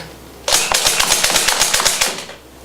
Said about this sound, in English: Now I'm going to turn around and shoot the target carpet because I got taggers. With the slam fire.